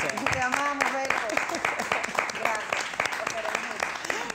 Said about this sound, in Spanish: Un aplauso porque de verdad que se lo merecen